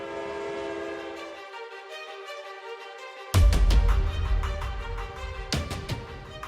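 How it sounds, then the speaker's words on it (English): A train in the video game Brick Rigs sounds a long horn that breaks off, then rolls past loudly with heavy rumbling and sharp rhythmic clacks of the wheels, close and dominant. "right on cue, here comes the train"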